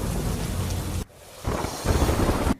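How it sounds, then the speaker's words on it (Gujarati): Heavy monsoon downpour in Tharad, Banaskantha, Gujarat roars as a loud, dense wash of rain with deep rumbling underneath, briefly dropping away before surging back just as hard. "થરાદમાં ધોધમાર વરસાદની શરૂઆત થઈ છે"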